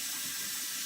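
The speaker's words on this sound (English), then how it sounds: "They have holes in the bottom to let the water drain out." Water draining out through holes in the bottom of a fodder bucket used to sprout barley, a steady close-up rushing hiss lasting under a second.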